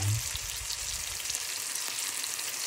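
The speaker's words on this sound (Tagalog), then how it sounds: "piniprito na natin ng napaka-slight fire" Pork tocino fries in a pan over very low heat, a dense, steady sizzle with soft crackles and a brief thump at the start, no talking.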